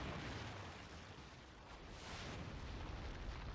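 A KEM strike detonating in a video game: a massive, deep explosion roar with heavy rumbling that fills the whole stretch, swelling again midway with crackling debris and no voices.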